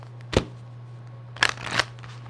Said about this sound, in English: So let me get a quick shuffle again.